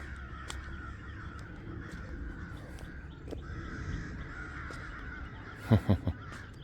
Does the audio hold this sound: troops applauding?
no